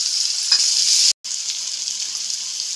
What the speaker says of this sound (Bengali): পেঁয়াজগুলো একদম লালচে করে ভেজে নেব।